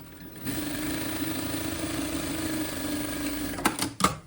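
A sewing machine hums in a continuous, even run while stitching the pocket of a pair of summer shorts, ending with a couple of sharp clicks near the end.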